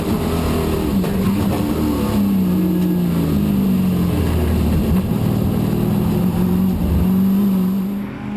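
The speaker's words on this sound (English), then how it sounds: "The Swiss Roger Bolliger has participated since 2009 with the Pontiac Firebird Trans Am in the special touring car class above 4 liters." A Pontiac Firebird Trans Am V8 race car in the special touring car class above 4 liters roars steadily and loud throughout, its deep engine note wavering slightly as it holds speed, with no voices.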